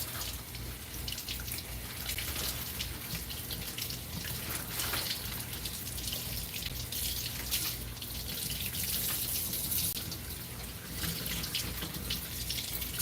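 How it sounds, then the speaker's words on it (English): Running tap water pours steadily over asparagus spears being rinsed in a kitchen sink, a continuous close splashing rush with small irregular spatters lasting throughout, no voices. "The asparagus. We'll rinse them off."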